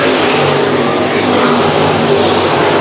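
Street stock race cars roar around a track at a state championship main event, a continuous loud engine drone with overlapping revving, no voices.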